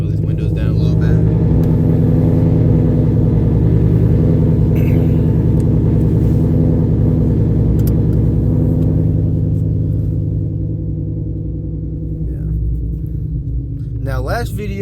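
A Ford Mustang S650 with a full bolt-on exhaust drives along with a loud, deep, continuous rumble that eases slightly and then swells with a rev at the end. A voice talks over the engine.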